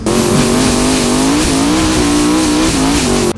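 Ken Block's twin-turbo Hoonicorn, boosted to around 1,400 horsepower, screams at very high revs during Climbkhana testing, a loud, close, sustained engine wail with slight pitch wavering and no voices over it.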